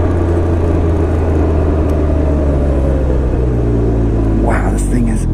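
A 2019 Can-Am Ryker 900 three-wheeler's three-cylinder engine runs at a steady, loud, close-up rumble, with a brief rise in revs near the end.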